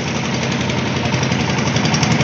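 A motorcycle taxi engine chugs loud and close along a flooded village road in Demak, a steady, rough, knocking drone with no voices.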